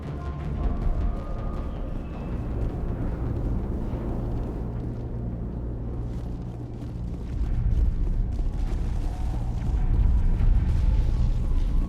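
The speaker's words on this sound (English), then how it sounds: "Oh man, there's a lot of explosions." Explosions and booming blasts in the video game Mass Effect during a mission, a continuous rumbling roar of low-frequency bursts that swells louder toward the end, with no talk over it.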